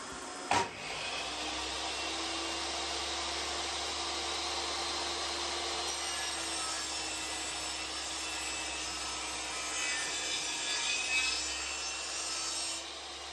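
A budget table saw rips wood along a fence in one long continuous cut, a loud steady whine with a harsh rasping edge and a brief bump at the start.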